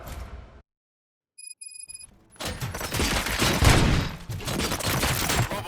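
Gunfire in the game Robocop: Rogue City, starting with faint sparse shots and then swelling into a loud, dense, sustained volley of rapid shots and impacts.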